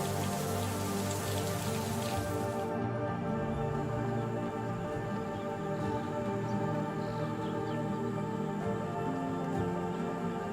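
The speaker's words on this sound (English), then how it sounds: "By early 2025, the rains had returned." Steady rain falling over grassland, a dense even hiss of drops on surfaces continuing throughout, fairly close and without voices.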